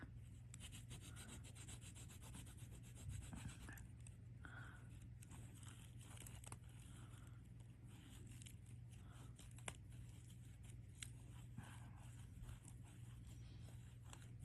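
Steady, low-level rubbing and scraping of a sanding stick worked back and forth over a small polymer clay ring, continuous with a constant low hum underneath.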